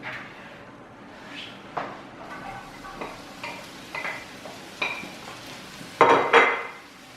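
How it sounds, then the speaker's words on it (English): Mushrooms stir-fry in butter on a heated pan, with scattered clinks and scrapes of a utensil against the pan over a faint sizzle, ending in a louder burst of frying. "Now we're gonna stir fry our mushrooms. Put them on the heated pan with butter."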